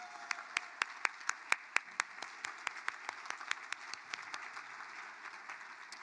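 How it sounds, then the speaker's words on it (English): Audience at an arts and heritage awards ceremony clapping for the awardees, with sharp individual claps at first that settle into steady applause, moderately distant and faint. "let's give a round of applause to all of our awardees tonight"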